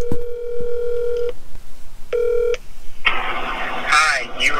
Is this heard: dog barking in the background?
no